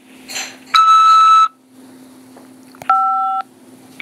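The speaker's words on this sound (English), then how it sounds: "After the beep, press 5 to accept this call." Two electronic tones from a prison phone system, each a steady beep under a second long, separated by a pause over a low constant hum.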